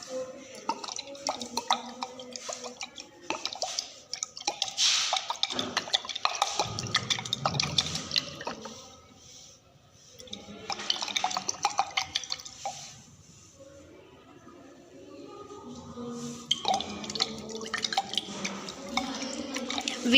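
An organic compound is shaken with cold water in a laboratory test tube for a solubility check, giving continuous sloshing, splashing and clinking in bursts with short pauses, close and moderately loud.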